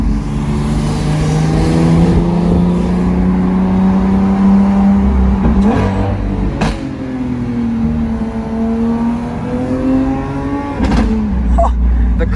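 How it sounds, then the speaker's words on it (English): A Porsche with white rims revs on a London street at night, its loud close exhaust rising and falling with sharp pops and crackles over a steady engine drone. "Crackles this car makes are unreal."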